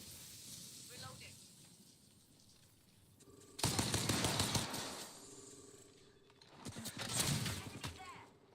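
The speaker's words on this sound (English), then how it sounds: "Oh, they're shooting at me." Gunfire in the video game Apex Legends, bursts of rapid automatic shots in two loud clusters between quieter stretches, with a player talking over the action.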